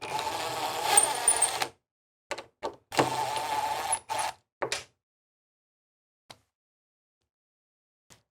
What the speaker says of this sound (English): Now on the refrigerator, you'll remove the door catch.